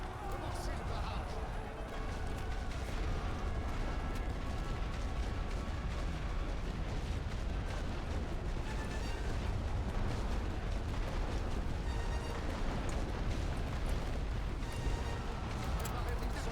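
A heavy artillery barrage in the World War One strategy game The Great War: Western Front, a dense, continuous roar of overlapping booms and blasts that sits loud and unbroken throughout, with voice commands mixed in.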